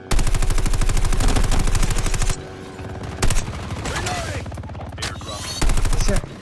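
Rapid automatic gunfire in the mobile game Call of Duty Mobile, loud dense bursts of machine-gun rattle with a pause and scattered shots between, voices faintly under the action.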